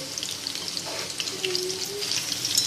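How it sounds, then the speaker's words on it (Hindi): Beef muthiya kebabs frying on a low flame, producing a steady soft sizzle with faint crackles throughout, close and continuous, with no voice. "हम इनको बिल्कुल लो फ्लेम पे फ्राई कर रहे हैं।"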